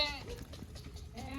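Goats on a goat farm giving short wavering bleats at the start and end of a brief moment, moderately close over low background murmur.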